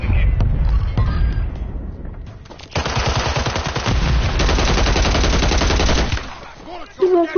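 Sustained automatic gunfire in a Call of Duty match, a dense rattling burst that runs loud and continuous for several seconds after scattered earlier shots, with a brief voice near the end.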